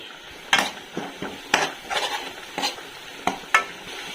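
Spices and tomatoes fry in a pan under a soft, steady sizzle, broken every second or so by sharp scrapes and clinks of a spoon stirring against the metal.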